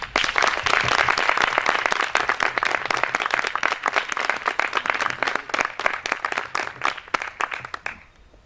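An audience at an evening masterclass on film music gives hearty applause, many hands clapping loudly and steadily, then thinning out into a few scattered claps before falling quiet.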